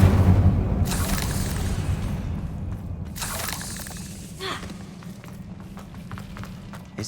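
The Incendio fire spell is cast in Hogwarts Legacy, giving a sharp burst that shatters into a booming whoosh. Crackling, thudding aftershocks follow over a low rumbling bed while a voice speaks faintly.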